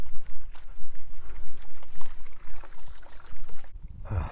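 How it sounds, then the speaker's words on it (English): Water pours and trickles with a steady splashing rush from a source in a city stadium in Armenia, fairly close and continuous, ending with a brief louder gurgle. "Oh, there's the water."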